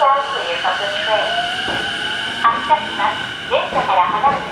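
A train departing a station on Japan's Ome Line, with door chimes and repeated bright tonal announcement signals over steady rail and platform hum, a few louder clanks near the end.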